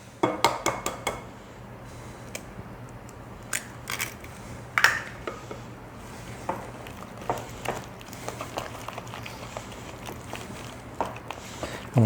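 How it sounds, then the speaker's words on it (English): A utensil stirs an egg into hot cream puff dough in a pot, giving quick scraping and clinking strokes against the pot in bursts, fairly close and moderately quiet. "I'm going to stir this pretty fast because I don't want this egg to cook in this heat"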